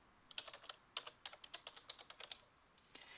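A layer name is entered in Microsoft Visio on a computer keyboard as a run of light, fairly quiet keystrokes in a steady rhythm, pausing briefly and then resuming with a few more taps.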